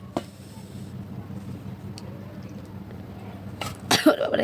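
A child coughs in short bursts near the end, close and fairly loud, during a home meal where two girls sit eating together at a plate.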